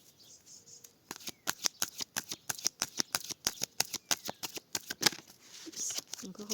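Tarot cards being shuffled, a quick run of crisp snapping riffles and taps, close and fairly loud, falling into a steady rhythm for several seconds before trailing off.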